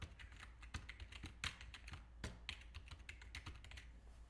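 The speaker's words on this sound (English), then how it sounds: "It's a pretty quiet keyboard." A cheap mechanical keyboard from Amazon is typed on in a quick, uneven run of crisp keystrokes, close and fairly quiet, with a few firmer clacks among the lighter taps.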